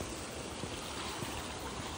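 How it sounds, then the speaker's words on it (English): A stream on a Washington hiking trail gives steady, faint rushing and trickling of flowing water, with no talking. "I'm gonna walk through the water."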